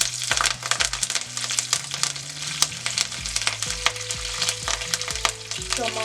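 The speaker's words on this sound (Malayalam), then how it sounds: "ജസ്റ്റ് ഒന്ന് ഇതൊന്ന് മൂത്ത് വരുമ്പോൾ നമ്മൾ കറിവേപ്പില ഇട്ട് കൊടുക്കാം." Curry leaves and spices sputter and sizzle in hot oil in a pan for a parippu rasam tempering, a steady crackling fry with a few sharper pops, heard close with no talk.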